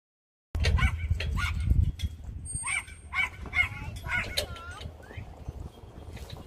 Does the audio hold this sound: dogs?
yes